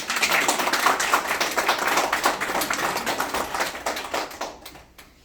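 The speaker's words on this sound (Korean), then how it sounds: "박수를 좀 부탁드립니다" At a 60th-birthday banquet, a small group claps for an invited guest speaker. The claps are steady and crisp at moderate volume and taper off toward the end.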